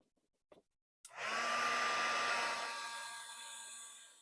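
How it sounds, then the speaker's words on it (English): An embossing heat tool switches on and blows a loud, steady rush of hot air across a card. The roar starts abruptly after a brief click and carries a faint whine, with no talking. "I've already warmed up my embossing tool, so hopefully that's going to work fine."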